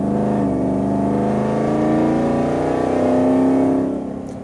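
A supercharged 5-liter engine with a Whipple supercharger in a Factory Five XTF pre-runner truck revs hard, giving a loud, deep, continuous roar that climbs in pitch while driving, then eases off at the end.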